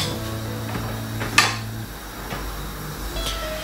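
A spoon stirs tom yum soup with pork belly in a pot, its broth tinted by paste, giving a few soft scattered clinks and scrapes against the metal. One sharper knock stands out over a low steady kitchen hum.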